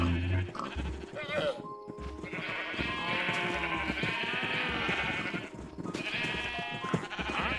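Several sheep in Minecraft bleat repeatedly at close range under continuous overlapping talk.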